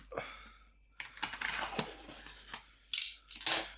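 A box cutter slices open a cardboard box during an unboxing, giving a series of scraping, crackling cuts and tearing bursts with short pauses, the loudest strokes coming near the end.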